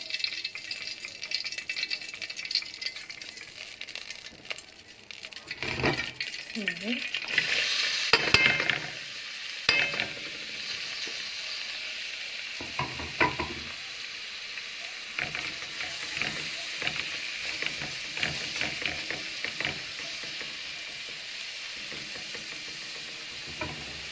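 Onions frying in ghee (samna) for an okra stew, with a crackling sizzle, bursts of louder spattering, and intermittent clinks and stirring scrapes of a utensil against the pot, without talk.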